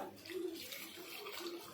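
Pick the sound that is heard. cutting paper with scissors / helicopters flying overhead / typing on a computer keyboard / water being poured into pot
water being poured into pot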